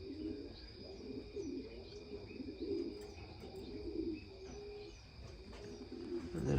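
A bird room holding canaries and finches in cages fills with steady overlapping chirps and soft cooing calls, some close and some farther off, with light rustling and occasional wing flutters throughout.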